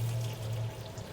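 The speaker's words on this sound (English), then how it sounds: "Now we'll add the hot water." Hot tap water poured into flour for tortilla dough, a soft continuous trickling stream heard close and fairly quiet.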